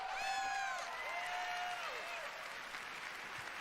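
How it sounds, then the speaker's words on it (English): Audience clapping at the Bethesda E3 2019 press conference, a dense sustained round of applause from a large crowd, with tonal music sweeps playing over it and fading out as the clapping continues. "clapping."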